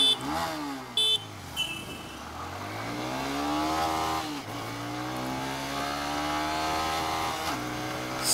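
A 2025 TVS Raider 125 motorcycle, kick-start OBD 2B model, accelerating hard in first gear in power mode, engine pitch climbing steadily from a low burble to a high strained whine, close and loud, with brief horn-like blips near the start.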